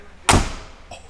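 A heavy door on a six-wheel-drive 6x6 truck swings shut with one loud, close thud, followed by a faint secondary knock a moment later.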